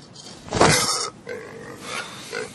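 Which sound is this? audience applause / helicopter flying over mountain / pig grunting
pig grunting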